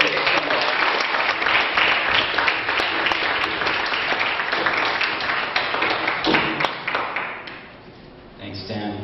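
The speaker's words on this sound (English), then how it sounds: "Once again, a hand for all the artists who performed tonight." Sustained applause from an audience in a hall for artists who performed at an evening event, dense steady clapping for most of the stretch, fading near the end.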